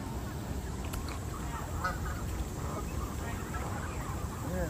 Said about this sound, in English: Then we got our quacks over here. Quack, quack, quack.